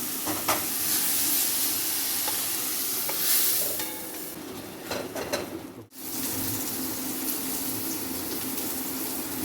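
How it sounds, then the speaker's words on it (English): Mushrooms cooking in a pan with tomato sauce being added, a steady soft sizzle with scraping and stirring clicks throughout, a brief drop near the middle, then the even frying hiss resumes. "The mushroom is ready. I am going to add on the tomato sauce."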